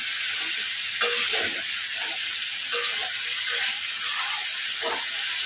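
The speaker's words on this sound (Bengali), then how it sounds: "নাড়তে গেলে কড়াই আর খুন্তির যে একটা ঝনঝনানির আওয়াজ" A metal spatula stirs food sizzling in a kadai, a cooking dish of cauliflower with fish head, giving a steady hiss of frying with intermittent scraping and light metallic knocks, close by, with no talk.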